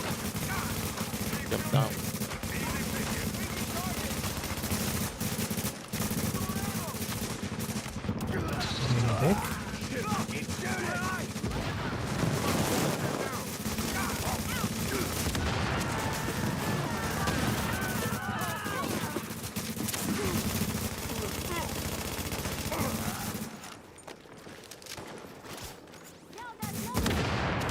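Sustained automatic gunfire from the video game The Division, dense and continuous at moderate loudness for most of the stretch, mixed with voices calling out before it drops away near the end.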